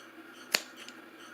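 A single sharp snip of scissors cutting cotton wick for a Wotofo Profile Unity RTA rebuildable tank, close and brief against a faint steady background hiss.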